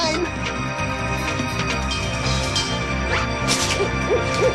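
Owl hoots at night in a nocturnal animal scene, faint repeated calls heard over a layer of music and narration-like voice throughout.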